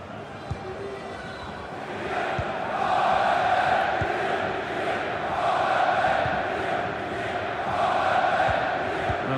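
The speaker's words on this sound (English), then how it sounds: "The crowd certainly think so. Just listen to them." Stadium crowd in the football video game EA FC 24 during a Wolfsburg versus Hannover friendly, a continuous roaring swell of fans that rises and falls, with a commentator speaking over it.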